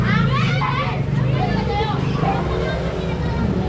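Children playing outdoors in a Filipino neighborhood on a rainy afternoon, a steady babble of kids' shouts and chatter running throughout, close and lively over background noise.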